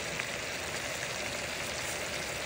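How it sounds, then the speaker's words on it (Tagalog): Ginataang langka, jackfruit in coconut milk, bubbling in a pot with a steady, dense hiss and crackle throughout, close and even, with no talking. "Ngayon na kumukulo na siya"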